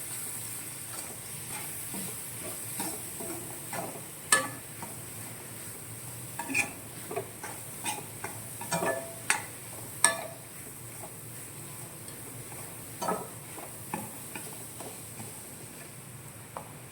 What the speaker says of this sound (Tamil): தேங்காய் துருவல் சேர்த்துக்கோங்க. எல்லாத்தையும் நல்லா மிக்ஸ் பண்ணுங்கள்.